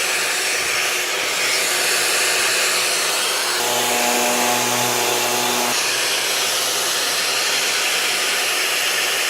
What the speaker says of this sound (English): Let the sander stay flat and work around it.